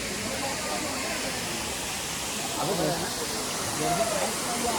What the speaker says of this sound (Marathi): खूप मोठा धबधबा असा एकदम जोरात असा वाहतोय खाली